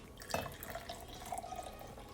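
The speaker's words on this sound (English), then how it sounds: "we're gonna put this tea that I did in the beginning. We're just gonna pour it in here." Black tea poured into a cup to make simple chai milk tea, a soft close trickling and dripping of liquid into the vessel, quiet and steady with a brief splash near the start.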